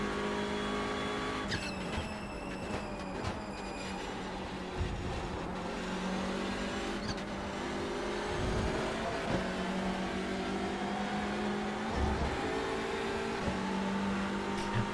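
A Hyundai Elantra TCR touring car races at Thruxton Circuit in iRacing, its engine droning loud and continuous with gear-change shifts in pitch, light tire squeal and other cars nearby.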